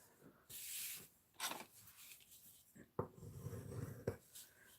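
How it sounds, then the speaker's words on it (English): Paper card base being folded and burnished by hand, soft rubbing and sliding strokes with a few crisp creases and taps, close but quiet, no talking. "let's fold and burnish this card base"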